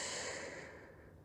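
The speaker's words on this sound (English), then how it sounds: "Deep breath out and in." A single long, breathy exhale fading away, close and soft, taken during a mat Pilates session.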